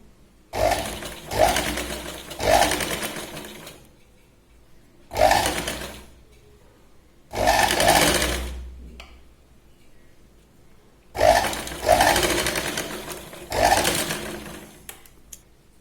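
Several separate bursts of a sewing machine stitching a katori blouse, each running a second or two with quiet pauses between, loud and close, with no talk over it.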